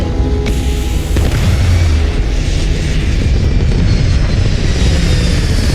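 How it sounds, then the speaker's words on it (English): A starship lifting off in the game Starfield, a loud, steady low roar and rumble of thrust that holds evenly throughout, with a faint higher hiss over it and no talk. "Ready for takeoff in 3, 2, 1, go!"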